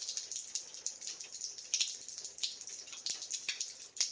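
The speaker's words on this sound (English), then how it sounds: "we're just waiting for the pressure to release, or water to drain from the pipe" Water trickles and drips from a leaky copper pipe after the hot water valve has been shut off. Soft, irregular patter and splashing runs steadily throughout at close range, with no voices.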